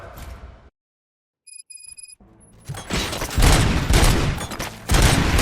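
Gunfire erupts in the video game RoboCop: Rogue City: after a silent gap and a few high electronic chirps, a loud, dense burst of rapid shots and booming impacts builds and continues to the end.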